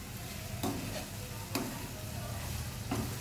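Radish leaf sabzi sizzles steadily in a frying pan while a spoon scrapes through it in three distinct stirring strokes, close and moderately loud.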